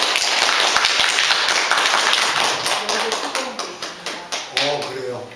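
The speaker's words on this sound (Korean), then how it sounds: "우리 박수로 그냥." A church congregation claps together, first as a dense burst of hands that thins into sharper, separate claps, with talking heard over the applause.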